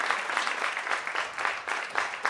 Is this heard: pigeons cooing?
no